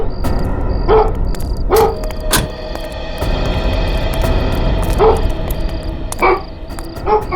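A dog barks in a series of sharp, loud yips and woofs at an uneven pace, with some whimpering between barks, close by and over a steady outdoor background, as a man leads the dog toward a parked van.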